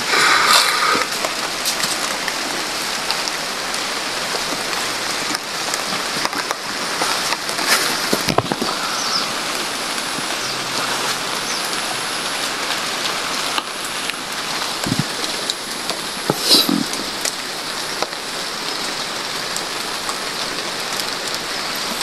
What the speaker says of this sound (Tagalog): napaka lakas ng ulan doon tol